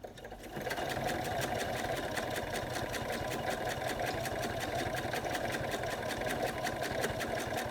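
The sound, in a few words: sewing machine stitching with zipper foot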